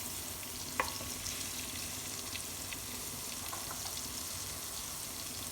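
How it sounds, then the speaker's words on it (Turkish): Butter melting in a pot for béchamel sauce, a faint steady sizzle and hiss with a single light clink of a utensil early on. "şöyle bir 3 yemek kaşığı kadar tereyağımızı eritelim"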